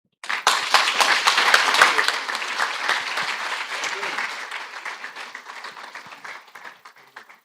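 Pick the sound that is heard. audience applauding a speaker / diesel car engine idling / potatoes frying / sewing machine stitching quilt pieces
audience applauding a speaker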